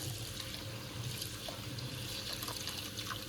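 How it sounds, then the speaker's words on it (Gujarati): Split mung and cowpea lentils are washed by hand in water in a home kitchen, a steady close sloshing and trickling of water running without pause. "હવે આપણે એના જે છોતરા છે મગની દાળ છોડાવાળી અને ચોળાની દાળ છોડાવાળી, તો તેને સારી રીતે આ રીતે ધોઈ કાઢશું દાળને"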